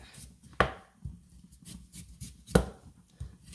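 A sharp knife trims the skin off a rutabaga, giving a handful of crisp cutting strokes and thuds on a board, two sharp, louder hits standing out among softer scrapes, close and without talk.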